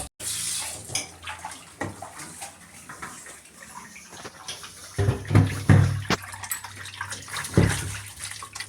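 Goat intestines are rinsed in hot water, with close splashing, sloshing and running water that grows louder in bursts toward the end; no talking.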